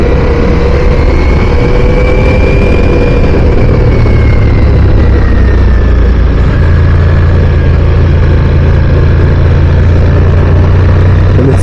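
A Ducati Diavel V4 cruiser motorcycle with under 2,000 miles runs steadily, a loud, close, continuous engine drone with shifting pitch and no talk.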